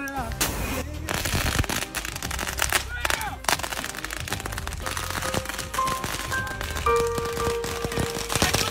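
A long string of firecrackers crackles in celebration of a friend's Marine Corps draw, a dense, rapid volley of loud pops continuing without pause while people shout and talk excitedly nearby.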